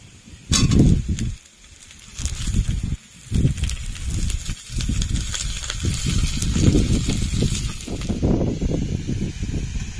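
Chicken pieces sizzle and crackle as they fry with browned onions in a pan, a loud close hiss with bursts of spattering and brief dips where the food is stirred.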